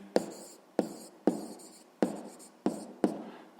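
Pen strokes writing an answer in a school notebook during a sixth-grade maths exercise, six sharp scratching taps spaced about half a second apart, close and quiet with no talking.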